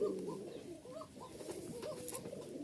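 A pair of biscuit-coloured Giribaz flying pigeons cooing softly and repeatedly in low throaty burbles, close by over faint background hiss, with no talk.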